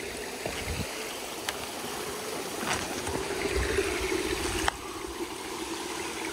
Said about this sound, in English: Beautiful creek here.